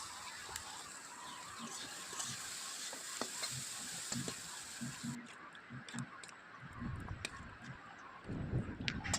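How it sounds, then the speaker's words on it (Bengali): Tadka of panch phoron with cumin powder, coriander powder and ginger frying in a karahi for rajma, a steady close crackle and sizzle with scattered clinks and stirring scrapes, getting louder near the end. "রাজমার জন্য তড়কা নিয়ে নিয়েছি, পাঁচফোড়ন দিয়েছিলাম তড়কাতে"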